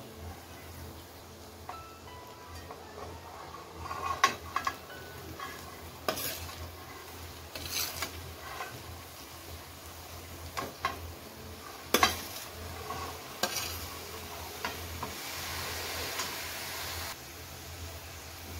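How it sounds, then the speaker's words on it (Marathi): Chopped jackfruit vegetable tipped into a hot pan for a village-style Marathi bhaji, followed by steady sizzling with a spoon scraping and stirring against the pan, several louder clinks standing out over a continuous frying hiss. "आता भाजी आपण टाकून घेऊया."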